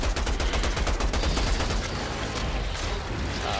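Gunfire in the video game Outriders during a Chrysaloid boss fight, rapid dense bursts of shots hammering in quick succession, loud and close, easing slightly toward the end.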